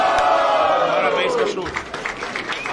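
A crowd at a rap battle cheers and applauds loudly, with shouting voices and a sustained roar that gradually dies down into scattered claps near the end.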